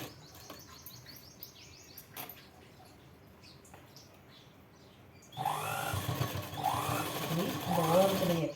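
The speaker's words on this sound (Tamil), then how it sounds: "இந்த மேலேயே எட்ஜிலேயே ஒரு தையல் கொண்டு வரோம்" A sewing machine stitches along the edge of blouse fabric, starting suddenly after a quiet stretch with faint bird chirps and running loud and close in a fast, even whir.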